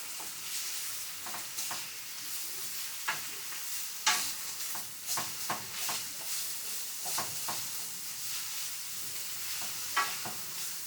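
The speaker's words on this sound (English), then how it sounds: "Whilst the onion is sizzling away" Onions and spinach sizzle steadily in a hot pan, a constant frying hiss broken by scattered clicks and stirring scrapes, close and moderately loud, no voices.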